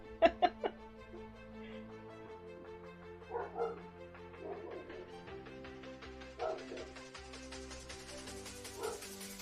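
Dogs bark in short sharp bursts, first a quick run of three, then scattered yips and barks from a little distance over a steady background hum.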